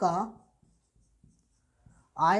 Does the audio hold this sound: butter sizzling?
no